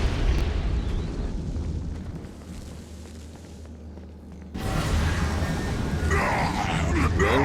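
Heavy cold fire blasts from an attack in the video game Saints Row: Gat out of Hell rumble and burst loudly. A dense roar drops briefly, then a sharp, louder surge follows, with no talking.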